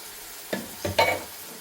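Ground coconut paste drops into a pan of sizzling shrimp masala, making three short, close stirring and sizzling bursts over a quiet frying hiss.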